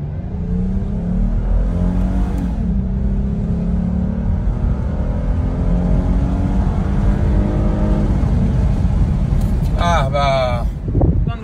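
A Lexus IS300 engine revs up with a steadily rising pitch as the car accelerates, loud and close, followed by a few brief high chirps near the end.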